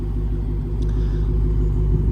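A 2023 Dodge Challenger Hellcat Jailbreak idles nearby, its supercharged V8 exhaust giving a deep, steady, loud rumble with a faint throb, heard alone without talk.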